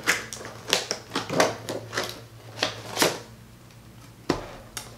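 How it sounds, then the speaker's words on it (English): Cardboard subscription box for a handbag being handled and slid open, with a series of close papery scrapes, crinkles and soft thumps coming in irregular bursts, no talking. "the box just kind of slides out"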